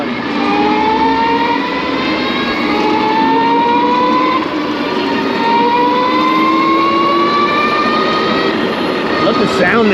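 UBCO 2x2 all-wheel-drive electric bike riding past outdoors at a demo day, its motor giving a steady rising whine that climbs in pitch over about ten seconds, loud and close, with voices talking alongside.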